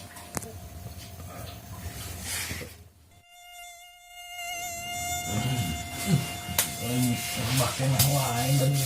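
Mosquito whining close by in a Sundanese comedy short about a sleepless night, a thin sustained buzz that drops out briefly mid-clip then returns under talking voices.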